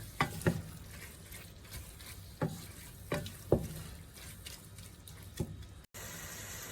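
A spoon stirs baked spaghetti sauce in a pan, giving a handful of distinct scraping clacks at irregular intervals over a soft, steady simmer, close and moderately quiet.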